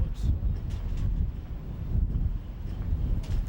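Low, blustery wind rumbles against the microphone in uneven gusts at the Indianapolis race track, steady and fairly loud throughout.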